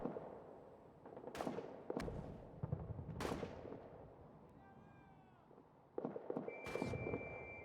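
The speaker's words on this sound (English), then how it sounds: "They're shooting at us with all their guns" Enemy guns firing in the trench-warfare game All Quiet in the Trenches: a few sharp, loud cracks spaced seconds apart over a low rumbling battlefield bed, with a brief meow-like tone between shots.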